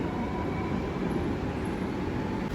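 A Kochi Metro train on the Tripunithura-bound line moves off from a station, a dense, steady rumble and rolling roar, loud and close throughout.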